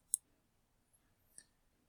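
Mouse clicks while working in Excel, two crisp isolated clicks over a second apart in near silence, plus a fainter tick between them.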